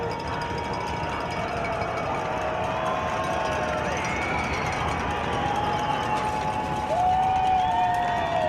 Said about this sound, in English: Crowd's getting into it, making it loud.